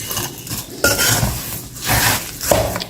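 Crushed almonds, pistachios, cashews and walnuts being stirred into a gond barfi mixture in a pan, with loud, close scraping and clinking of a spoon against metal in continuous sweeps.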